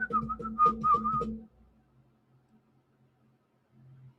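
A person whistles a short run of quick, rising and falling notes at night, close and clear, then stops, leaving near silence with faint low rumbles.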